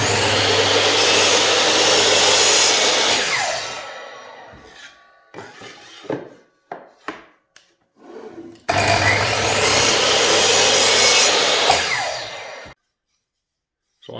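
A table saw cuts wooden rails to length for rail-and-stile doors, giving two long, loud, steady whining cuts separated by a stretch of short knocks and handling noises.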